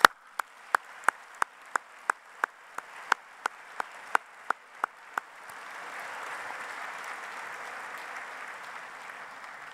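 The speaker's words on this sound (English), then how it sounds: "Could I ask all the graduates today to join me in giving an applause to thank all your family?" Graduates at a university graduation ceremony applaud their families, starting with a handful of sharp, evenly spaced individual claps that swell into a soft, sustained wash of crowd applause in a large hall.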